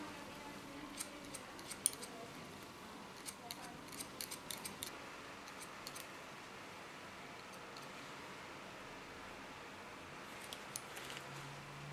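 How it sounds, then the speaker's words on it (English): Scissors snipping through hair during a short haircut, with a comb lifting the hair, heard as scattered faint crisp clicks and snips in small clusters over a soft, steady room hiss. "Can lift up with my scissor, catch it with the comb, and the comb is bringing the hairs in the position where I want to cut them."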